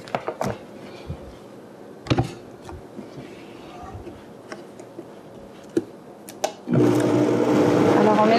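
A few scattered clicks and taps come first, then a blender mixing a vegan chocolate ice cream mixture kicks in near the end with a loud, steady whirring roar.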